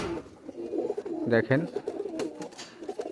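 Pigeons of fancy breeds such as Oman teddy, neel dumba and golden kamagar coo in a soft, throaty burst near the middle, with someone talking over the birds throughout.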